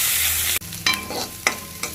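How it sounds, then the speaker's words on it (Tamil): Onions sauté in an old-style iron pan, a loud close sizzle broken by a few sharp scraping stirs of a utensil against the metal. "இந்த அளவு வெங்காயம் வதங்கினதும் போதும்."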